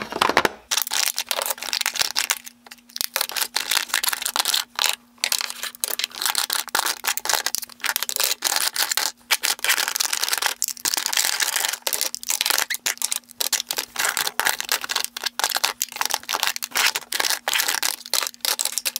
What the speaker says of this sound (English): be prepared for a lot of click, click, click, click noises throughout the video